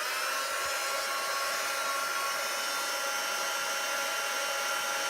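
A heat gun blows steadily while heating shrink plastic, producing a loud, close, unbroken whooshing hiss of hot air with no pauses and no talking.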